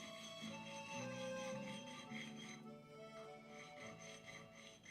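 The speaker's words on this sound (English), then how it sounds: "Sharpening diamond stone plate." A steel blade is rubbed back and forth across a diamond sharpening plate while held square to the surface, giving close, steady rasping strokes with a faint ringing tone.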